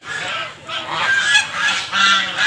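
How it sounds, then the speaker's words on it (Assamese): Domestic ducks at a riverside temple ghat at Biswanath Ghat honk loudly and repeatedly, a close cluster of harsh nasal calls overlapping one another with no talk. "হাঁহকেইটাই খেদাই খেদাই অৱস্থা বেয়া কৰিছে, গোটেই মন্দিৰটো ঘূৰাইছে"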